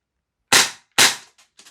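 A Tokyo Marui airsoft pistol fires two sharp, loud cracks about half a second apart, each decaying quickly, followed by faint mechanical clicks.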